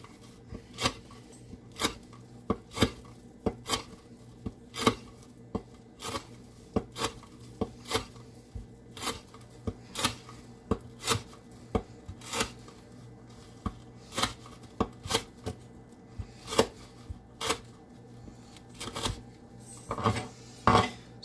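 Zero Tolerance 0300 knife with an S30V steel blade slicing through rope, giving a steady series of sharp, close snapping cuts roughly every second with no talking.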